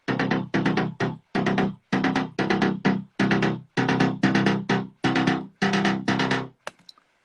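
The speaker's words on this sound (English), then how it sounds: "that was done with the Evolver, with the desktop synth" A bass line from an Evolver desktop synthesizer: a dozen punchy, evenly paced notes in short bursts with brief gaps, close and prominent, ending with a few faint clicks.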